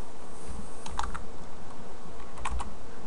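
Keyboard keys being typed while entering C# code, a few quick clusters of clicks with pauses between them, heard up close over a steady low background hum.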